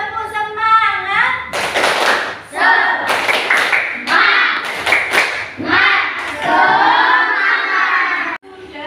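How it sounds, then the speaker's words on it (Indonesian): A classroom of children doing a rhythmic 'tepuk semangat' cheer clap, bursts of loud clapping mixed with chanting and shouted voices, close and energetic, ending abruptly. "Supaya lebih semangat, kita tepuk semangat dulu ya. Tepuk semangat."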